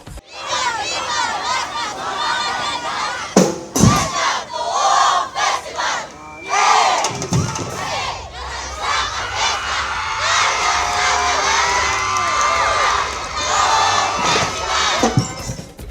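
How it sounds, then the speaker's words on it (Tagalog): Spectators at a street dance competition during a mushroom festival in a town plaza shout and cheer continuously, a loud dense crowd roar with high yells and screams rising and falling, brief dips between bursts. "Walang humpay na sigawan at hiyawan mula sa mga manonood ang umalingaw-ngaw sa buong plaza."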